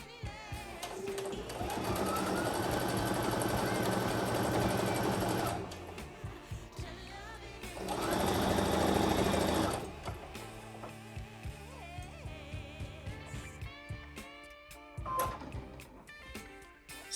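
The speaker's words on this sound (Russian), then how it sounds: "Далее прокладываем закрепляющую строчку на швейной машинке по краю входа в карман на расстоянии 5 мм от края." A sewing machine topstitches along the pocket opening of handmade jogger pants with a 3 mm stitch. It gives a steady buzzing hum in two separate runs, with quieter handling and clicks in between.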